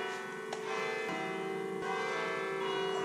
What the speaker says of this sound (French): Comme vous pouvez entendre actuellement, les bruits des cloches d'église.